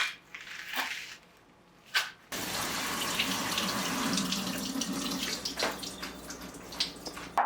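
Chopped gandana leeks washed under a running kitchen tap for vegetarian Afghan dumplings: a few crisp handling sounds, then a steady close rush of water spattering over the greens that continues to the end.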